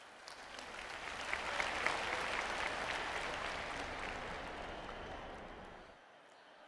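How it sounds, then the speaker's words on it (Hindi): Dense, loud audience applause at a women's self-help groups conference in Karahal, a large crowd clapping continuously for several seconds before it drops away. "तालियों के बीच।"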